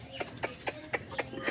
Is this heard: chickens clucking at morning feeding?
yes